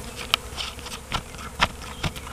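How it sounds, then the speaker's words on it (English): A caught swarm of honey bees: close buzzing with several individual bees zipping past the microphone in brief louder bursts over a low, steady hum. "there's a lot of bees around here"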